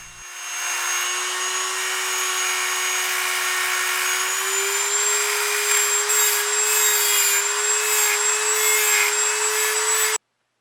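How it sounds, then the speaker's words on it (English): Dremel cutting wheel grinding a slot into the middle of a flathead screwdriver tip, a continuous high whine held close and loud for about ten seconds before stopping abruptly. "Grind the middle of the tip using a Dremel cutting wheel."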